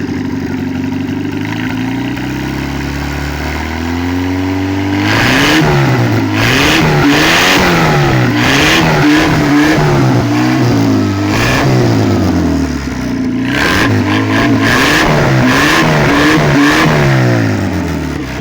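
Small engine in a demolition derby car idles roughly, then revs repeatedly in sharp bursts, loud and close with no talk, the revs rising and falling again and again through the second half.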